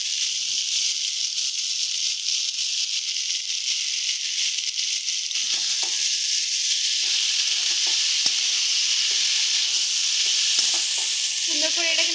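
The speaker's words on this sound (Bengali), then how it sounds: "এবারে দিয়ে দেবো আগের থেকে খোসা ছাড়িয়ে রাখা ছিমের দানা।" Shelled flat bean seeds go into a pumpkin curry frying in a pan, giving a steady loud sizzle with stirring scrapes and clinks over it and no talk.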